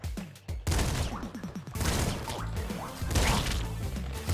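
Double shotgun blasts in the top-down shooter Nuclear Throne, a string of loud, punchy booms and impacts in quick succession, close and dense, with no talking.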